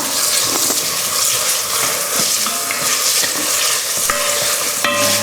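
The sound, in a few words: sausages and bacon lardons frying in a pot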